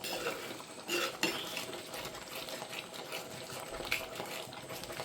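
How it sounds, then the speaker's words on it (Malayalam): Faint stirring of an etta fish curry in a pot, with soft scrapes and occasional light clinks of a ladle under a quiet, hissing background. "വീണ്ടും അമ്മ മീനിലേക്ക് ഇളക്കാൻ പോയി."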